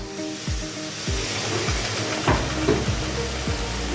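Masala sizzling and crackling loudly in a hot pan as the rinse water from the mixer jar is poured in, a steady frying hiss with repeated low thumps and bubbling bursts while cauliflower and prawn curry is being cooked.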